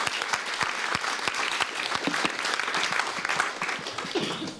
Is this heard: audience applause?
yes